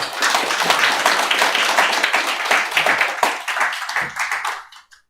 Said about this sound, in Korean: 먼 걸음 해주신 윤창렬 이사장님께 다시 한번 큰 환영의 박수 부탁드리겠습니다.